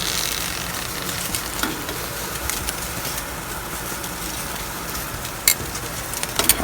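Pork and eggplant sizzle on an outdoor grill with a steady, dense crackling hiss throughout and a few sharper pops near the end.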